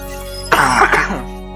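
A single short, harsh cough close by, over a steady low hum.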